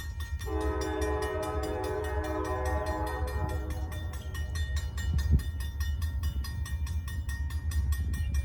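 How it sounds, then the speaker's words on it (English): An approaching freight train hauled by GE and EMD locomotives sounds its horn in a chord for a few seconds, over a steady heavy rumble and rhythmic rail clatter that keep building in the distance, no talking. "I can hear the train, just can't see it yet."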